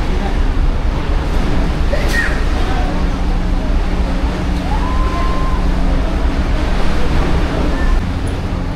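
Choppy sea water rolls and washes around a ferry in Macau, a broad steady rush of surf and wind noise close to the microphone, with people talking over it.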